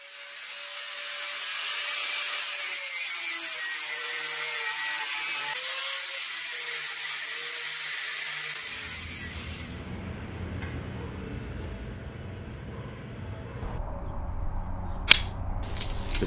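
Metal pieces cut for a homemade blacksmith's bending tool: a steady, whining cutting noise runs close for several seconds, then turns rougher and grittier, with a sharp knock near the end.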